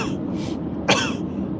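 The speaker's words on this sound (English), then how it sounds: "I'm coughing." A single close cough from a man, a short harsh burst preceded by brief throaty breaths, in an otherwise quiet indoor room.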